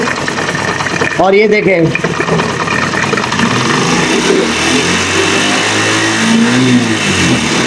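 A Honda CD 70 motorcycle engine, being checked for oil pump function, revs up briefly under the throttle and then settles to a steady, close running note while someone talks over it.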